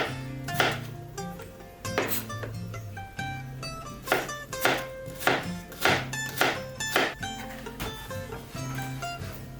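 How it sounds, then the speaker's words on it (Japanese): Rapid, uneven knife chops strike a cutting board in quick bursts as ingredients are finely minced, close and crisp, with brief pauses between runs. "火が通ったら煮崩れるので、細かく刻んであれば切り方は何でもいい。"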